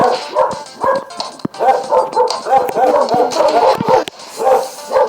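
Several dogs bark repeatedly nearby, overlapping yaps and barks in an irregular rhythm with a few whimpering notes.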